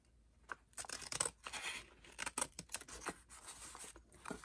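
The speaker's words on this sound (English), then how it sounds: "So I'm going to start by cutting this flap along the line here" Scissors cutting along a line through an envelope flap of paper, with repeated close snips and crisp slicing strokes in an irregular rhythm, fairly quiet with no talking.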